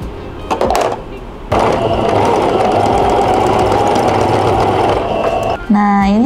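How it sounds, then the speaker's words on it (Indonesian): A sewing machine stitches the end of an eco-print tote bag where a square ring is attached, running in a loud, steady, continuous whir after a short burst, then stopping. "Lalu jahit ujungnya."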